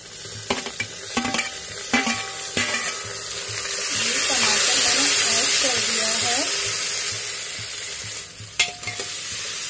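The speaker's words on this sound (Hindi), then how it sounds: "ये टमाटर हमारा हल्का सा फ्राई करके इसमें ऐड करना है" Tomatoes fry in a pan for a simple aloo (potato) sabji and are stirred with scraping and clattering strokes; a steady sizzle swells in the middle and fades with a few sharp utensil knocks near the end.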